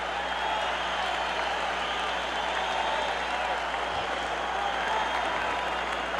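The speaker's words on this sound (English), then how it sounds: "Crowd is very excited." Boxing arena crowd at a 1986 Jesse Ferguson fight, a steady dense roar of cheering and applause that holds loud and unbroken throughout, with no clear voices standing out.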